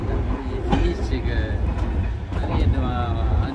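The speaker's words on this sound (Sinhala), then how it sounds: "කෝච්චි යන්න කෝච්චි ගොඩයි." A steam train on the Chasewater Railway rumbles and clatters steadily nearby, its low drone running throughout while people talk over it.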